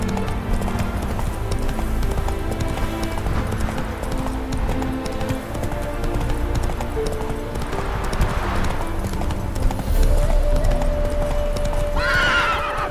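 Hooves clip-clop in a steady galloping rhythm from the horse Roach in the video game The Witcher 3, with a neigh and a musical score underneath, and a voice speaks briefly.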